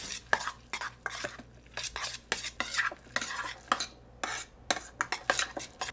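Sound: mixing beef heart tartare in a bowl

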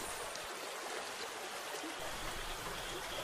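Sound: water flowing below, a stream

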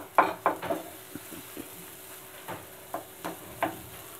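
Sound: stirring elephant foot yam masala frying in oil

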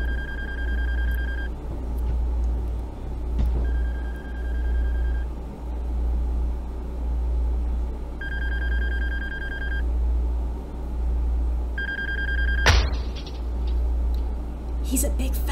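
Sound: telephone ringing and being answered in video game Shipwrecked 64

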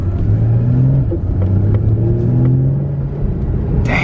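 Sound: car engine running with factory exhaust

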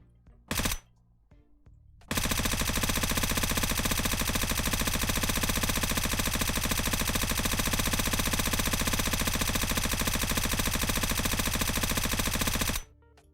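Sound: suppressed M249 machine gun firing in video game

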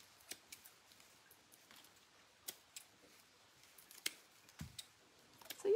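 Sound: scissors trimming scarecrow craft hair

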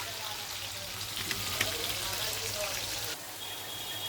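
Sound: potatoes frying over a wood fire

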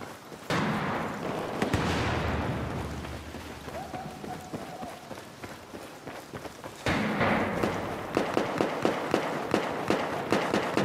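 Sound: gunfire from the video game Battlefield 4

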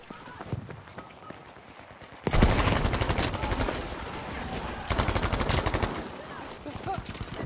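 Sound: grenade and gunfire in video game Battlefield V

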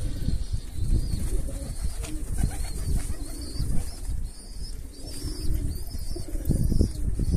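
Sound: bird cooing

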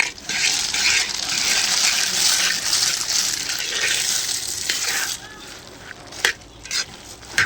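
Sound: peanuts added and stirred into bubbling jaggery syrup

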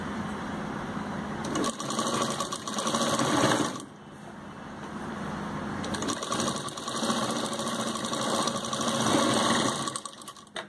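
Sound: sewing machine stitching kameez shoulder join

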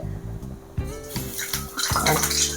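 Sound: batter sizzling in hot oil for banana bajji

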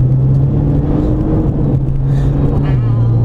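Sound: Nissan GT-R turbos spooling during acceleration

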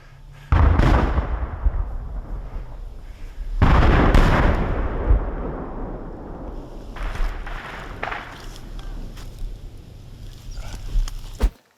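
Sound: gunfire, shooting

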